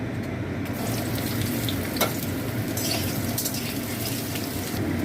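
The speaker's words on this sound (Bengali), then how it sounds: "এরকম লম্বা লম্বা করে কেটে নিয়েছি। এবার এটা ভাজবো।" Pointed gourd pieces frying in hot oil, a steady, loud crackling sizzle that runs unbroken throughout, with no talking.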